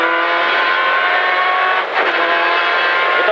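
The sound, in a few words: Citroën rally car braking into a chicane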